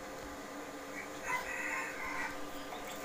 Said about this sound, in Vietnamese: Đây, con gà lai.